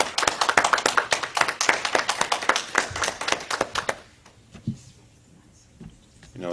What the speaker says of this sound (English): let's give Reverend June applause